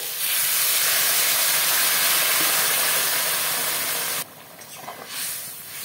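Hot water hits fried spice paste in a pan with a loud, steady rushing hiss that cuts off abruptly, leaving a softer bubbling simmer, close by with no voices.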